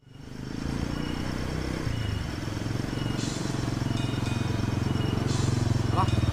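A motorcycle engine runs steadily in a Sundanese village setting, a close, continuous low drone that holds for several seconds, with voices likely present.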